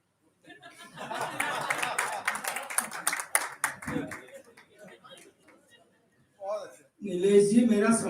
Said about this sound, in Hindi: जितनी तालियां आप बजा रहे हैं